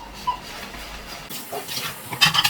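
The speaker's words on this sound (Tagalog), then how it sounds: "magkugas muna ako ng pinggan" Dishes are washed under running water: a soft hiss of flowing water, then brighter splashing and light clinks of plates toward the end, close by with no talking.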